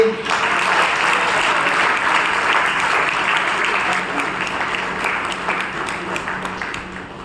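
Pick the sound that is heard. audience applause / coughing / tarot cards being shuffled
audience applause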